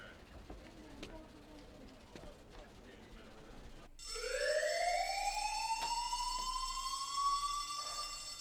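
A rising electronic fire alarm siren from the video game Who is Abby? sweeps upward in pitch and wails loudly and steadily after a quieter stretch of background sound.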